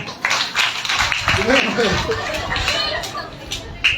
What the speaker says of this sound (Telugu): మీరందరూ మెచ్చుకోండి, క్లాప్స్ కొట్టండి ఒకసారి